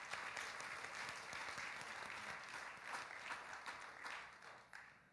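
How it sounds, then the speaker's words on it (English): A church congregation at FAME Seattle gives a round of applause in praise, a soft, steady patter of many hands heard at a distance, tapering off toward the end. "Can we just give them a hand clap of praise?"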